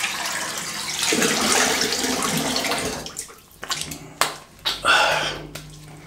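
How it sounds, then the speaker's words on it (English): Cold water runs from a tap as a face is rinsed after a shave, a steady close rush at first, then broken splashes and drips. "Cold water rinse."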